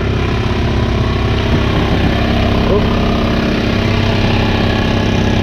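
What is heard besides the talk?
boat engine running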